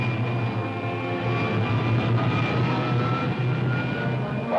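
A rocket ship's pilot jet fires in a 1953 science-fiction serial, giving a steady, rumbling engine drone with a faint hum on top that holds throughout at moderate loudness.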